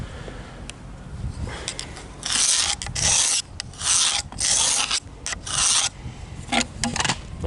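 Slate rock edges are trimmed with a rough, rasping scrape in a series of loud, choppy strokes, each about half a second long, over quieter gritty rubbing and a few light clicks.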